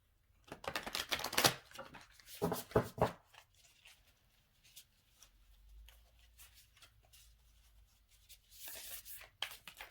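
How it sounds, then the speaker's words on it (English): Tarot cards, somewhat hard to shuffle, are shuffled by hand in several short flurries of riffling and snapping, close and fairly quiet, with pauses between bursts. "These cards are a little harder to shuffle."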